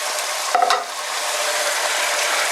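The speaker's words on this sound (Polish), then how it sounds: "Cebula nam się podsmażyła. Dodaję ją do naszej karkówki" Fried onion tipped into a pan of pork neck, giving a steady loud sizzle and frying hiss with a short clatter of stirring near the start.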